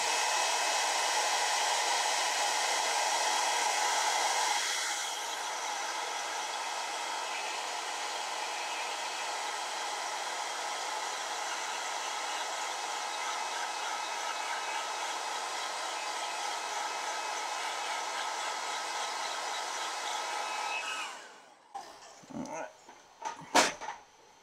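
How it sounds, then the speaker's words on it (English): A blow dryer drying something indoors runs as a loud, steady, close whir for about twenty seconds, dropping slightly in strength early on, then switching off, followed by a few soft knocks and handling sounds. "let me dry this right quick with the blow dryer"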